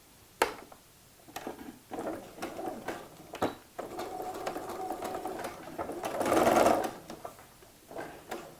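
A sewing machine basting a seam on a coin purse, running in stretches of steady rapid stitching with brief stops and clicks between, swelling louder near the end.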